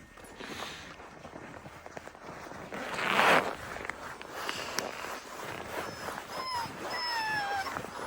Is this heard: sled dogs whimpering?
yes